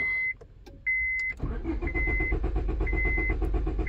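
Honda Civic engine cranking without catching: a chime beeps a few times, then the starter grinds in a steady, rapid rhythm, loud and close, with the chime still sounding over it.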